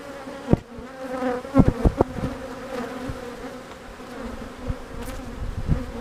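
Honeybees buzzing around an open hive during a hive split, a dense steady hum close by with individual bees zipping past the microphone.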